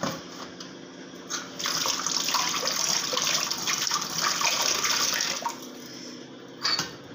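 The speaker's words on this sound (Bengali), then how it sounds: "ও মা বালতি ভরে তো পড়ে যাচ্ছে" Water overflowing from a full bucket in a dark kitchen, a steady splashing, running flow heard close and fairly loud, with short quieter gaps at the start and end.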